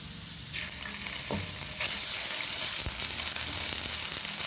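Ginger garlic paste hits hot oil with cumin in a curry pan, and a bright, steady sizzle swells, jumps louder partway through, then holds close and continuous, with occasional soft stirring knocks and no talk.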